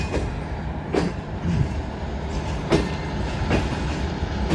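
The Shah Hussain Express passenger train rolls into a station platform with a steady, loud rumble, broken by sharp clacks from wheels over rail joints at irregular intervals.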